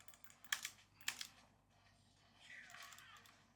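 Buttons on a Razer Wolverine V3 Pro controller click twice in quick sharp taps, close and quiet, followed by a faint softer rattle.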